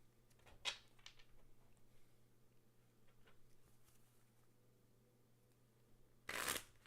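Faint tarot cards being shuffled in soft riffles, with a brief louder burst of shuffling near the end, in a quiet room with a low hum.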